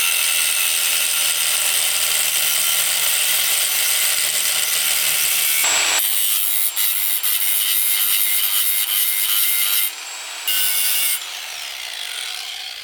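A cordless angle grinder shaves a green section off a BNR hybrid turbo for an FC3S RX7, a loud, steady high-pitched whine and grind that drops out briefly near the middle and again toward the end.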